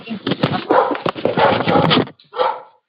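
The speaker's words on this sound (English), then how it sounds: "I'm hearing a dog in the background." A dog barks repeatedly in the background while a person keeps talking over it.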